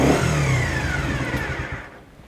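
A 2012 Honda CB50 V-Dream motorcycle engine running close by, revving briefly and then settling back down as the sound fades.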